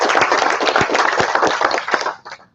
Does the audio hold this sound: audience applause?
yes